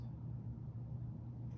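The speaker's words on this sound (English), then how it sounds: "So you may hear the heat on in the background." A home heating system runs quietly in the background as a low, steady rumbling hum that stays constant throughout.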